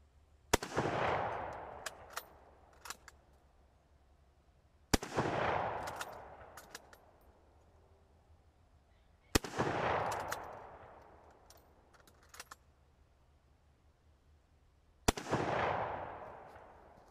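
Four sharp rifle shots from a 6.5 military surplus rifle, spaced a few seconds apart, each a loud crack with a long decaying echo, with faint clicks of the action being cycled between them.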